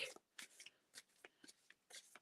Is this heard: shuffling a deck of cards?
yes